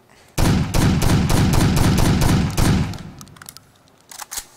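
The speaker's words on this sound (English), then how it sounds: "Saiga shotgun." A Saiga shotgun fires in the tactical shooter game Takedown: Red Sabre, about eight loud, rapid booming shots in close succession, followed by quieter mechanical clicks and handling sounds as the firing stops.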